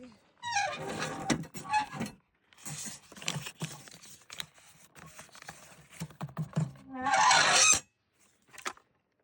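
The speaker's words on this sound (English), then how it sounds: "I think that goose is cheering me on" A goose honks in loud, raspy bursts near a hiker on a trail, with one burst strong toward the end, while a person talks between and over the calls.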